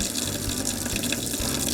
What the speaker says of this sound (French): on coule de l'eau